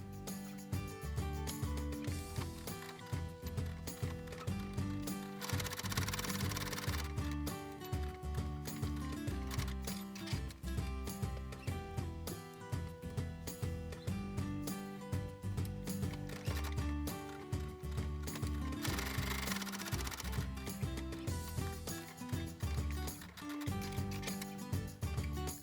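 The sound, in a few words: sewing machine stitching fabric seams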